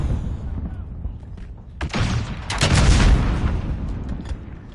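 Rocket launcher fire in the Modern Warfare video game: a couple of sharp, heavy blasts with rumbling booms, loud and close over a steady background of game noise.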